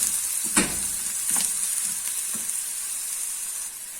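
Onions and peppers fry in a pan with a soft, steady sizzle, broken by a few brief stirring clicks, fairly quiet and without talk.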